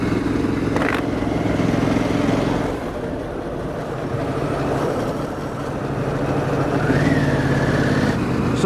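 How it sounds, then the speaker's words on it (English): Harley-Davidson Pan America motorcycle engine running steadily with the clutch pulled in and throttle off, a continuous low rumble and drone, close and loud throughout with slight shifts in tone. "when I let off the gas, pull the clutch, I can feel like a tunk, tunk, tunk, tunk"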